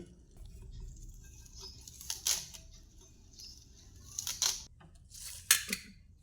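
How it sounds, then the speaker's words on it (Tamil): A few sharp chopping strikes cutting leafy greens land at irregular intervals, close and crisp, over a quiet low background hum. "எங்கள் அம்மா நறுக்கிட்டு இருக்காங்க."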